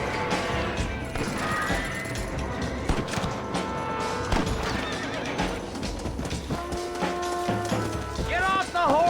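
Horse neighing and hooves clip-clopping in the video game Red Dead Redemption, with whinnies and hoofbeats amid gunfire and crashes while someone shouts over the action.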